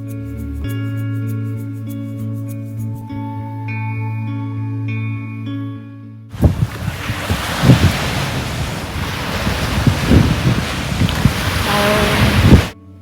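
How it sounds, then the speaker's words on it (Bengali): Sea waves and strong wind roll in on Marina beach in Kuwait as a loud, continuous roar with gusty buffeting against the microphone. Music plays before the surf begins. "আর দেখুন একদম সমুদ্রের পাড়ে বসে গেছি, একদম ব্লু জলটা, কি যে সুন্দর লাগছে, আর এত সুন্দর মানে হাওয়া দিচ্ছে"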